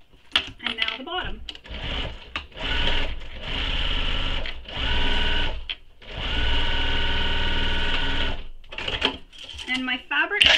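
A sewing machine basting a seam on a small crossbody bag runs in several steady bursts with short pauses, ending in a few quick clicks near the machine.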